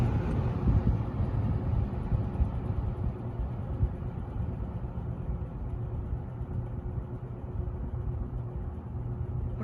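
A Lakewood K-223 fan running on its low speed setting gives a steady, continuous low hum and whir, close to the microphone and unbroken throughout, with no talking.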